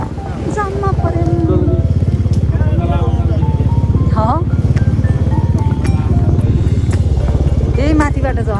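Motorcycles come and go along a congested road under construction in Nepal, their engines droning steadily close by while people talk over them throughout.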